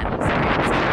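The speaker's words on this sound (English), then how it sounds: "it's very windy" Strong wind buffets the microphone outdoors, a continuous loud rumbling roar for the whole clip with no voices.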